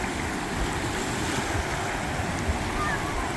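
Ocean waves washing onto a beach with a continuous broad roar and wind rumble on the microphone, steady and fairly loud with no voices.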